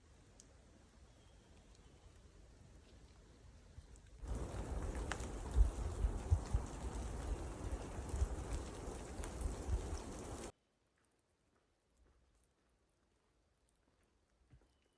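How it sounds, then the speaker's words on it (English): Rain patters steadily outdoors on a solo backpacking trip, swelling to a louder, dense wash of drops midway before cutting to near silence with a few faint sounds. "record a little soundscape of the rain and the birds"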